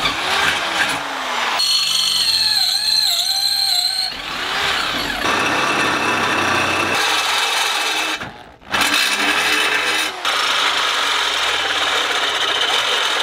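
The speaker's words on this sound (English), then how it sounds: "So we drilled out some of the holes" A power drill whines and grinds steadily drilling holes in metal, its pitch shifting as it bites, with brief stops and restarts.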